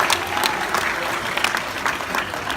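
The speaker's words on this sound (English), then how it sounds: "Come on, guys, let's give Adira a big round of applause." An audience at a white tiger show at Dreamworld's Tiger Island on the Gold Coast breaks into loud, steady applause. The dense clapping fills the whole stretch.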